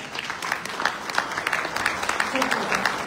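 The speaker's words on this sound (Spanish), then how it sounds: "a quien le brindamos un fuerte aplauso." Audience applause at a panel of experts ceremony, dense clapping from a seated crowd lasting a few seconds at moderate level.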